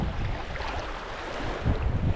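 Strong wind buffets the microphone in a steady low roar, with gusts swelling louder near the end, over a rough open-sea background at Lubang, Mindoro, Philippines.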